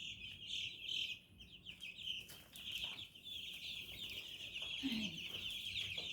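Baby chicks clucking and chirping close by in a busy, continuous chatter, with a soft murmur of speech in the background.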